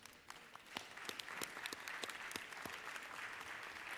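Georgia House of Representatives chamber giving a round of applause to welcome city members, moderate crowd clapping with sharp individual claps standing out, fairly distant and soft, continuing evenly throughout.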